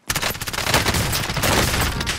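Sustained automatic gunfire in a video game, dense rapid bursts with a booming low end filling the whole moment, loud and close with no talking over it.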